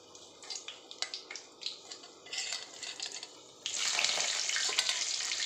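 Ginger garlic paste hits a hot frying pan in a home kitchen, starting with soft clinks and scraping of utensils, then breaking into a steady loud sizzle that holds to the end.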